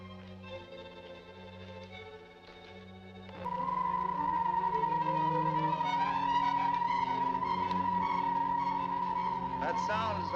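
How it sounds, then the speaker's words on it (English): A steady, piercing electronic whine of high-frequency thromium waves radiating through a coil resistor rises abruptly and holds for several seconds, layered over dramatic orchestral music. "That sound is the high-frequency thromium waves radiating through the coil resistor."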